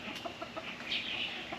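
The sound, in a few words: young chickens clucking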